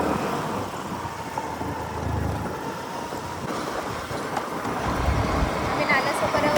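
An overloaded auto rickshaw packed with family members rattles along a narrow inner village road, its engine and road rumble droning steadily and loud throughout with voices talking over it.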